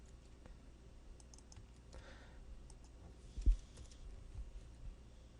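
Quiet, sparse clicks of fingers pecking at a computer keyboard, with a single louder knock partway through, in a still indoor room.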